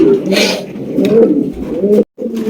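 Low, throaty cooing close by from caged Danish, racer and king pigeons, several birds overlapping in a continuous warbling murmur, with a brief pause near the end.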